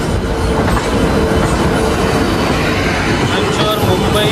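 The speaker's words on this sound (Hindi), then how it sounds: "और अब इधर आ रही है तेजस राजधानी एक्सप्रेस" The Tejas Rajdhani Express passing close by, a loud, continuous rumble of rolling wagons with rhythmic wheel clatter and faint squeals throughout.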